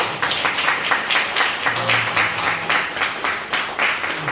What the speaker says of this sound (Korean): 고생했다고 격려의 박수 한번.